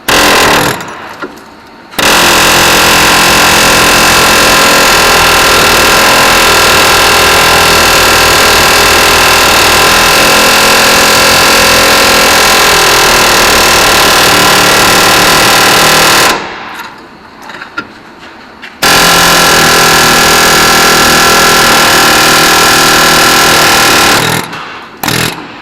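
Cutting tool grinding through rusty rivets on the frame of a 1981-1995 Ford F150 pickup, a loud, continuous harsh roar with two brief pauses between cuts.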